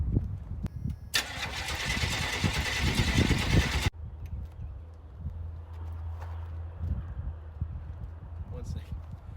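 A GMC C3500 truck's engine cranks with a loud, sustained burst lasting a few seconds that cuts off abruptly, followed by a low steady idle-like rumble with scattered clanks and people talking faintly over it.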